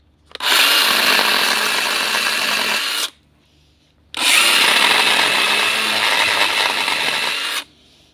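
Parkside cordless pole pruner cutting through a wooden branch, two sustained loud buzzing cuts of about three seconds each separated by a brief pause, close and steady with no talking.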